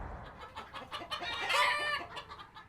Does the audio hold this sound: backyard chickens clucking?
yes